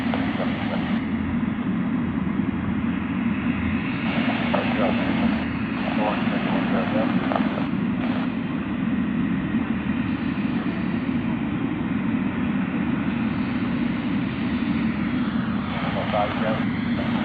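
A FedEx Boeing 777 freighter from Guangzhou roars steadily at Sydney Airport, a continuous loud jet rumble across the whole stretch, with a radio-like voice talking over it.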